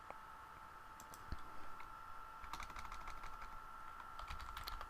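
Soft, scattered keyboard clicks of typing on a computer, faint and brief over a steady electronic hum, with no one speaking.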